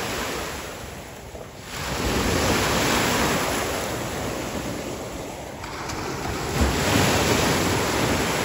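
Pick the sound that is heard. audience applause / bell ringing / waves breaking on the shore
waves breaking on the shore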